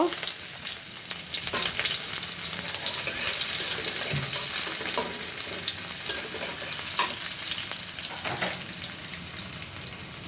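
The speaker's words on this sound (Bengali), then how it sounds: "শুকনো মরিচ দিয়ে দিছি পেঁয়াজ ভেজে নিব" Onions with dried chillies frying in hot oil, a continuous bright sizzle with occasional crackles and stirring clinks, close and moderately loud, no voices.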